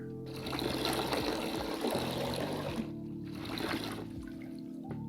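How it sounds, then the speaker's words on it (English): Ten liters of water pour into a brewing pot, a continuous splashing, gurgling stream with brief dips in flow, fairly close and moderately loud, with no talking. "now we pour in 10 liters of water in here"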